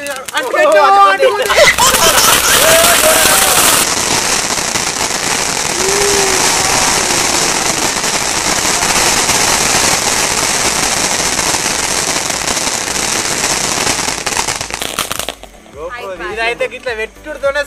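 Firecrackers set off outdoors at night with a lit rope fuse, giving a long loud burst of dense crackling and popping that fills most of the clip, with voices talking before and after.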